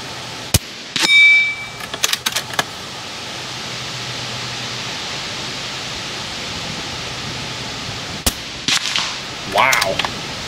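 An FX Atomic Gauntlet 2 .30 caliber air rifle fires two sharp shots several seconds apart, each followed by a short metallic ring from the struck target, with quiet outdoor hiss between.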